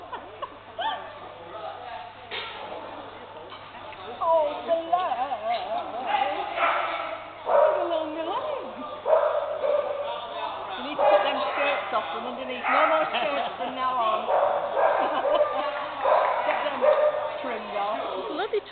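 A dog yips, whimpers and barks excitedly at a night agility competition, close and repeated throughout, while people talk and encourage it over a muffled, indoor-sounding background.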